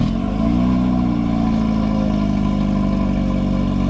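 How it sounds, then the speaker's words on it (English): Hyundai Genesis engine with a muffler fitted and stock tips, a loud, close, steady low rumble as the revs rise and hold, with no voices. "I put a muffler on the Genesis"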